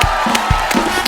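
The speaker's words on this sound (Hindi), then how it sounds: "एक बार तो इनकी मूवी के लिए जोरदार तालियां हो जाए" A studio audience on a Hindi comedy talk show erupts in a short, loud burst of crowd noise, with shouts and cheering layered over clapping and sharp vocal bursts.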